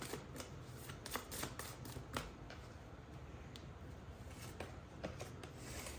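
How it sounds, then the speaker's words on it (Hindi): A deck of tarot cards is shuffled continuously up close, a steady papery riffle and slide with soft flicks throughout, no talking. "Let me shuffle it."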